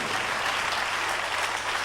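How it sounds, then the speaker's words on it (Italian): A concert audience of the Mille Voci show claps steadily, a dense, even wash of applause holding at moderate loudness throughout with no voices standing out. "chiedo ancora un generoso applauso al grande pubblico di Mille Voci"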